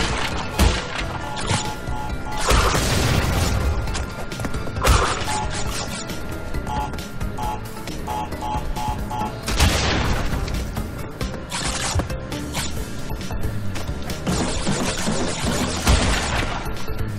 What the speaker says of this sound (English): I'm trying to destroy the boxes, see.